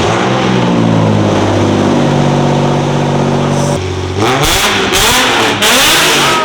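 A Nissan VQ engine revs loudly and steadily, its pitch holding then dropping before sharp, ragged blips of throttle with a raspy, leaky exhaust crackle from an exhaust leak.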